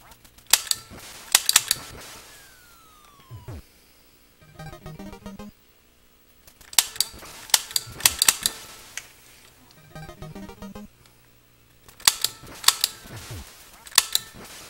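Zapper light-gun shots in the Duck Hunt NES game, sharp cap-gun cracks fired in clustered bursts between quieter gaps, mixed with short game tones and chirps.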